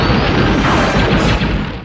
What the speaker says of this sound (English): It's a really famous sound effect called Castle Thunder